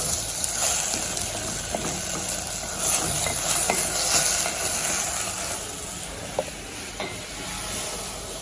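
Tomatoes sautéing in a pan for a Chettinad okra pachadi, a continuous moderate sizzle and hiss with occasional clinks and scrapes of stirring, heard close and without talk.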